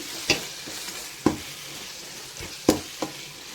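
Tomatoes sautéing in a pan for mutton dum biryani, giving a faint, steady sizzle broken by a few sharp stirring clacks of a spoon against the pan.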